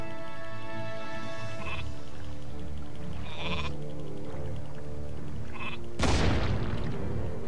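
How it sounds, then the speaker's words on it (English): Sheep bleat repeatedly in Warcraft 3 over steady game music, several close cries spread across the stretch, ending in a loud sudden burst as an exploding sheep goes off. "More exploding sheep!"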